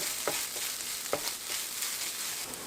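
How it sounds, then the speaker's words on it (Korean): Rice with butter stir-fries in a pan, giving a continuous soft sizzling hiss with a few quick scraping strokes of the spatula, close and without voices. "밥이랑 버터를 추가한 뒤 밥알이 꼬들꼬들해질 때까지 볶아주시면 돼요"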